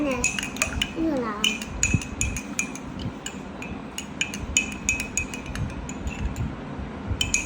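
A metal spoon stirs lemon juice in a glass, giving close, rapid, repeated clinks and chimes against the glass in an uneven rhythm that continues throughout, with little or no talk.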